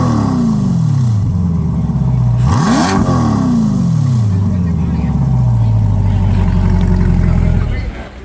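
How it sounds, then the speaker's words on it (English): A Corvette E-Ray LeMans Edition with a newly installed track exhaust revs repeatedly, loud and close, rising and falling through deep roaring sweeps with a sharp blip midway. "You think you could give us a little bit of an exhaust?"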